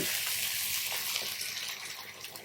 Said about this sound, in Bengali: এখানে আমি বাটা মশলার পানিটাই দিয়ে দিচ্ছি